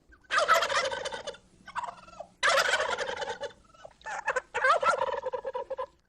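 A wild turkey gobbles loudly and close, in three rapid rattling bursts with short pauses and softer clucks between them, with no talking.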